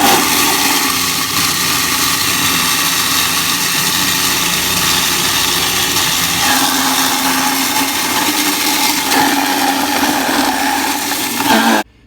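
A DIY plastic-recycling grinder chews through plastic pieces at home, a loud, steady mechanical whine and rattle running nearly the whole time with no talk, then cutting off abruptly at the end.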